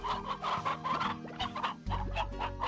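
Chickens cluck repeatedly in the farming game Slime Rancher, a steady run of close, overlapping hen clucks and chirps with no talking.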